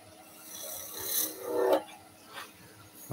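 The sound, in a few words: skew chisel turning a wooden baby's rattle on a lathe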